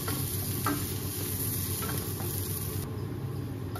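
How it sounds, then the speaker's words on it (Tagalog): Sliced garlic and onion sauté in a pan for beef caldereta, producing a continuous close sizzle with a few light stirring scrapes and faint ticking clicks, with no talk. "magigisa tayo ng ating hiniwang bawang at sibuyas"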